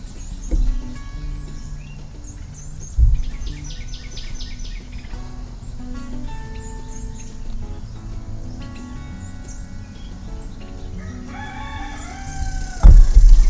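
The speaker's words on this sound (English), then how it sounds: "There's our neighborhood rooster crowing." A neighborhood rooster crows somewhere in the distance, faint against outdoor garden ambience with scattered bird calls and a few soft bumps nearby.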